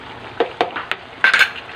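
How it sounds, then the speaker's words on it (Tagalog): A spoon stirs dinuguan, a pork blood stew with pork, isaw and kamias, in a pot, making a few distinct scraping and clinking strokes against the pot, close and fairly loud with no talk. "Ang haluin lang natin"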